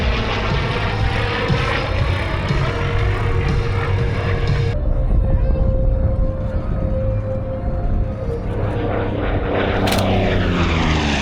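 A TP-40 warbird propeller plane flies past at the Warbirds Over Monroe air show, a loud, steady engine drone that shifts in tone partway through and bends in pitch as it passes.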